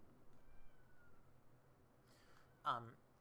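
A house cat lets out a single short meow near the end, faint and somewhat distant over a quiet room background during a retro computer game session.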